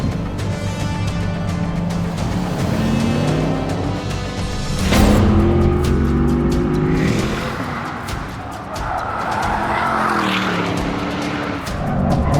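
A Porsche Panamera with sports tires and a reworked chassis drives hard on the Nürburgring Nordschleife, its loud engine note rising and falling through gear changes, with brief tire noise as it corners.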